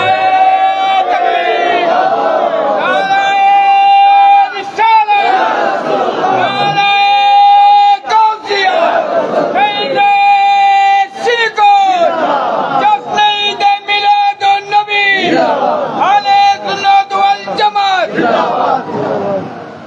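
A large crowd at an Islamic sermon gathering chants slogans in unison with hands raised, loud and sustained, rising in repeated rhythmic bursts with brief pauses between them, the massed voices strong and close throughout the whole stretch.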